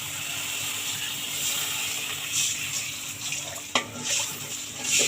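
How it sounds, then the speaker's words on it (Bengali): Water poured into hot spiced oil in a cooking pan, a steady hissing, splashing pour that runs close and fairly loud throughout with a few brief clinks near the end. "এখন দিয়ে দেবো পরিমাণ মতো জল।"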